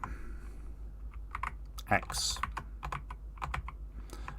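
Fingers typing on a compact 40% computer keyboard, a close run of crisp, irregular key clicks and taps, with a brief louder clack partway through and a short spoken word among the keystrokes.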